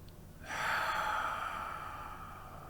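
A single deep breath during a gentle yoga pose, a close airy inhale that swells and slowly fades into quiet room tone.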